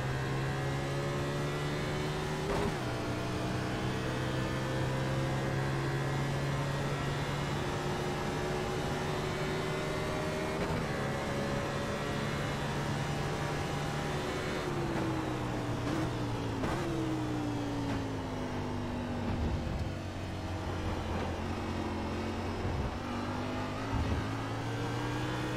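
NASCAR race car engines in iRacing on the Daytona road course, a loud, steady high-pitched drone of multiple cars that rises and falls through gear shifts and braking, continuous for the whole stretch.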